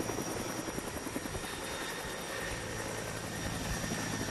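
A helicopter in flight in Iraq gives a continuous whirring, chopping rotor drone, steady and even in level for the whole stretch with no talk.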